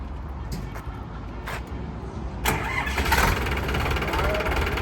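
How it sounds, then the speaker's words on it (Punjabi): A Standard 450 tractor engine cranks, catches at mid-clip and settles into a loud, steady diesel idle up close, with people talking nearby. "ਦੇਖੋ ਬਾਈ ਟਰੈਕਟਰ ਦੀ ਕਿਆ ਸ਼ਾਨਦਾਰ ਪੂਰੀ ਸ਼ਾਨਦਾਰ ਆਵਾਜ਼ ਹੈ ਟਰੈਕਟਰ ਦੀ"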